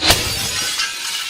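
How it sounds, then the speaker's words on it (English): Window glass shatters in a hurricane-strength debris impact test against a security screen, a single loud burst of breaking glass followed by scattering fragments and a lingering crackle. "The window shattered"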